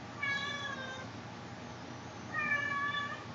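A cat meows twice, drawn-out and tonal, with a pause between the calls over faint background noise.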